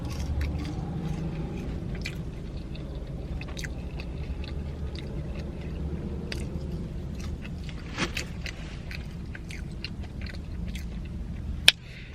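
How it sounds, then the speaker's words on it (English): Close, soft chewing of French fries with wet mouth sounds and faint crunches, repeating steadily through the whole stretch, with one sharp click near the end. "I'm gonna try French fry first because we all know you can't go wrong with fries"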